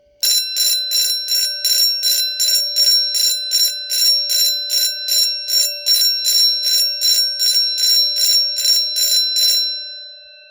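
A vintage Edwards Durabel 6-inch fire alarm bell rings loudly in rapid, evenly spaced metallic strokes for about ten seconds, then stops with a ringing decay.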